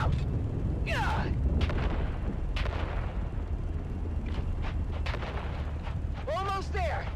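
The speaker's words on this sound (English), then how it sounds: "On 3, we grenade and move! 3, 2, grenades out!" Grenade explosions and combat bursts in the video game Dune Awakening come as several heavy booms and sharp blasts over a rumbling background, with shouting voices breaking through now and then.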